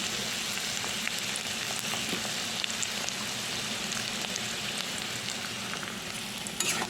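Potatoes and pointed gourd fry in a pan with a loud, continuous sizzle and crackle, steady and close throughout, with no voices.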